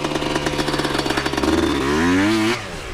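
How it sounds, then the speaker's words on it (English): Dirt bike engine revving hard in a burnout, a rapid pulsing rev rising to a sustained high-pitched wail, then dropping off sharply near the end; loud and close. "Do a burnout right here though."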